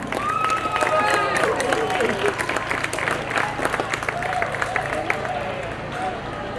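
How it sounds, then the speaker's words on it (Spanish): An audience gives a strong round of applause for Pascual Casán at a Valencia event on the Silk Route, steady clapping mixed with crowd murmur and some overlapping voices. "un fuerte aplauso para Pascual Casán"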